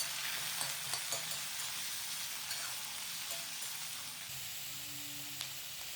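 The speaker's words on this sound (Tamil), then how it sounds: "தீயை குறைச்சி வச்சு நிதானமாக ஸ்லோவாக வறுத்துக்கிட்டே வாங்க" Chicken for pepper chops slowly frying over a low flame, a quiet, even sizzle with faint occasional pops and light crackles throughout, no talking.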